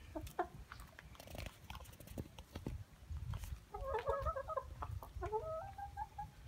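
Backyard chickens cluck and chatter near a corn tetherball, a busy run of soft clucks and short calls over outdoor background noise, with a dog faintly in the mix.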